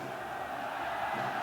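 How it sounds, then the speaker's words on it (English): A crowd in the Fire Emblem: Radiant Dawn video game roars in a dense, sustained wall of cheering and shouting, loud and unbroken throughout. "Cheers erupt from the crowd."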